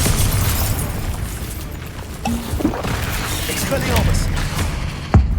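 Confringo fire spell blasting in Hogwarts Legacy, a booming explosive burst amid continuous combat noise, with a sharp impact near the end and a voice shouting over the action.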